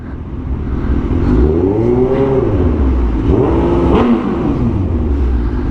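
A car creeps along slowly in traffic, its engine close and loud, with revs that rise and fall in repeated swells over a constant road hum.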